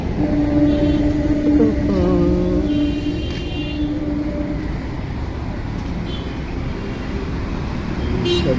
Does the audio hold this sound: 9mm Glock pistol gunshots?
no